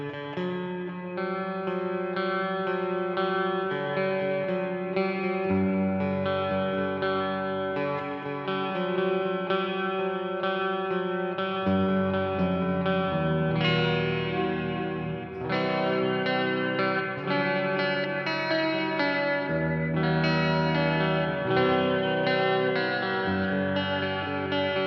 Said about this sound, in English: we've got a plate reverb setting.